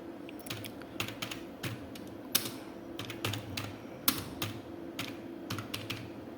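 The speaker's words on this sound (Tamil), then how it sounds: "ஃபஸ்ட் நம்ம ஏதாவது டைப் பண்ணிக்குவோம்." Computer keyboard typing with irregular bursts of clicking keystrokes and short pauses between runs, fairly close, under a steady low hum and with no speech.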